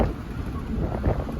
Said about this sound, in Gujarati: ડાઢો પવન આવે છે